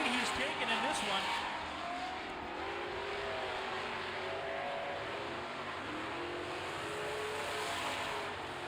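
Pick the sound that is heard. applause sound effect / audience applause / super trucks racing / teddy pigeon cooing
super trucks racing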